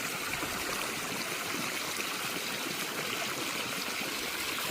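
Irrigation water flows steadily under pressure into a sugarcane field in a constant, broad rushing hiss that stays at an even loudness throughout. No voices are heard.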